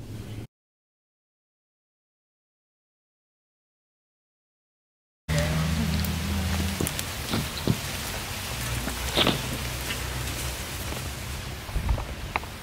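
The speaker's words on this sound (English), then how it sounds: "it is pouring rain right now" Heavy pouring rain falls at a tree-removal job site, a dense, steady hiss close by that begins abruptly after a silent gap and continues with scattered louder drops and patters.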